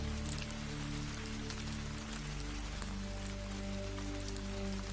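Rain pours steadily in a storm, a constant wash of drops on surfaces with a low rumbling hum beneath, heard alone at moderate level with no voices.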